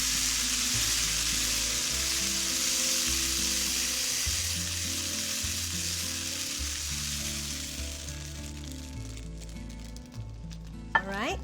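Roti Kirai batter frying in a hot non-stick pan, a bright continuous sizzle running steadily under a low background hum, with a faint clink near the end.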